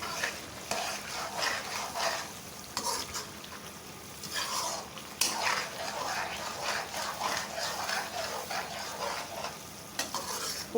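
Mutton liver masala with garam masala and coriander frying in a pan, a steady sizzle broken by repeated stirring scrapes across the whole stretch, close and moderately loud with no voices.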